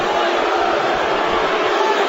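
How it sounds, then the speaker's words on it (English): A UFC arena crowd, watching Roger Huerta fight Alberto Crane, gives off a loud, sustained roar of booing and shouting from many voices, continuous and dense for the whole moment. "The crowd's booing"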